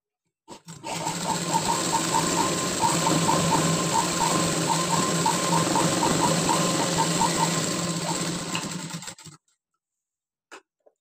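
A sewing machine stitches a blouse in one steady run of about nine seconds, its motor humming with a fast, even ticking of the needle, then it stops abruptly and leaves near silence with a couple of faint clicks.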